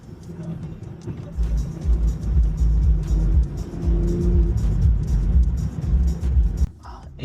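A BMW M340i fitted with an aftermarket Alibaba exhaust is driving, giving a steady, loud, low engine rumble that continues without a break before easing off briefly near the end.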